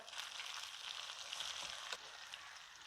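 Mussels (kallummakkaya) frying in a pan, a steady bright sizzle and crackle at low volume with a brief louder pop near the end, no voices.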